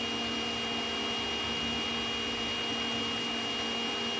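A Beamz B300 bubble machine runs with a steady, even motor and fan whir and a faint constant tonal hum, unbroken throughout and with no voices.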